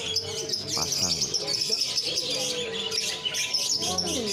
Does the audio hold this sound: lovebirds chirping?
yes